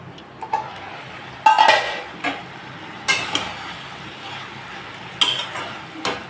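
Young drumsticks frying in a covered pan, with a soft steady sizzle under intermittent sharp clinks and scrapes of a utensil against the pan, several spaced knocks, no talking.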